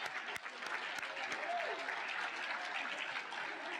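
Steady, even applause from a seated audience at a nursing pinning ceremony, a dense wash of clapping sustained throughout with faint murmurs underneath.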